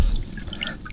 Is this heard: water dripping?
yes